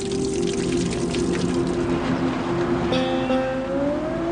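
A modern river flows through Oligocene badlands with a continuous rushing wash of water and a low steady drone beneath it, close and unbroken, with no talking.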